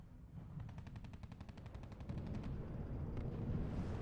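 Light artillery firing in the real-time strategy game R.U.S.E.: a rapid rattling burst of shots followed by low rumbling booms, distant and faint under game ambience.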